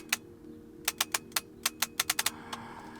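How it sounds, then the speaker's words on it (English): A Bronica SQ-AI medium format film camera clicks and clacks in an uneven series of sharp ticks, about a dozen close together, with a faint whir near the end. "a different Bronica, which is making a really funny noise"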